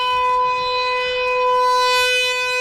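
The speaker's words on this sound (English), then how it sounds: "That tornado siren is so loud." A civil defense tornado siren wails during a major tornado outbreak near Rockton, a loud sustained tone with strong harmonics holding steady and slightly swelling, heard alone without voices.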